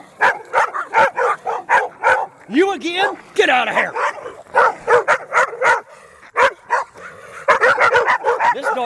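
Dogs on a rural road walk bark and yip in quick repeated bursts, close and loud, with a few whimpering, whiny cries mixed in; someone shouts at them partway through.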